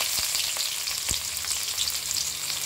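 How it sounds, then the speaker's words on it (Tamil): Crushed garlic and onion sauté with curry leaves for bitter gourd poriyal, a steady loud sizzle and hiss from the hot pan with a few faint stirring knocks, no voices. "இப்போ இதெல்லாம் நல்லா வதக்கிடலாங்க."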